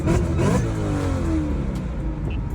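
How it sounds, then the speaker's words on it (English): A Chevrolet LT1/LT4 V8 engine fitted with an ultralight flywheel and heavy clutch revs sharply, climbing quickly and then falling back to a rumbling idle, loud and close with no talking. "I just sat behind the wheel and I revved."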